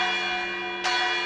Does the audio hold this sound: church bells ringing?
yes